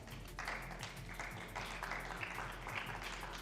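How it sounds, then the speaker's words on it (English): Audience applauding the winners of a B Division inter-school cycling esports cup in Singapore, a faint, steady wash of many hands clapping in a large hall, with a low hum underneath. "give a round of applause to the winners of this B Division Inter-School Cup 2025"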